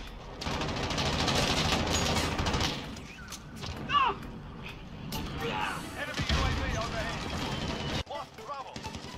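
Rapid bursts of Call of Duty gunfire crackle through a busy alleyway firefight, dense volleys with thuds and impacts, with a voice talking over the shooting.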